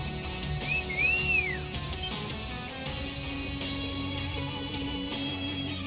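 A character in Trails of Cold Steel II whistles once, a short rising-and-falling tone heard over a quiet, steady game background.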